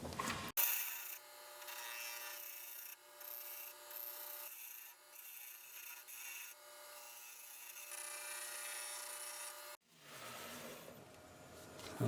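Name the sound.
sanding a wooden pumpkin box on a lathe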